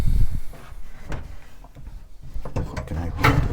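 An old pine cupboard door is opened by hand, giving a few close wooden knocks and creaks with some light handling noise, and a voice talks in the clip.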